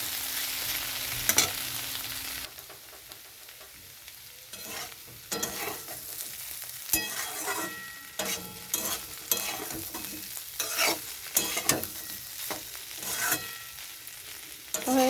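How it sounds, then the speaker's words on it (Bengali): Cauliflower and potato sautéed with poppy seed paste in a hot pan: steady close sizzling and frying under frequent scraping stirs of a spatula, crisp clacks recurring throughout with no voices. "পোস্তটা দেওয়া হয়ে গেছে তো এখন এটা খুব ভালো করে কষাতে হবে"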